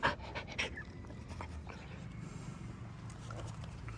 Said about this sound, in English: Here's the puppy